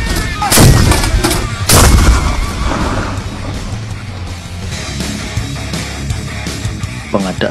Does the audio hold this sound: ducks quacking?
no